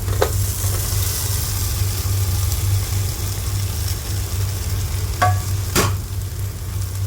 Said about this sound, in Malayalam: ഇനി നമുക്ക് വറുത്ത് വച്ചിരിക്കുന്ന ചിക്കനും കൂടി ചേർത്ത് കൊടുക്കാം